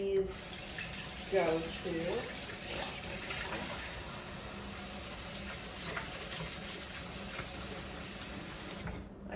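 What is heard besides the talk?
washing hands under running tap water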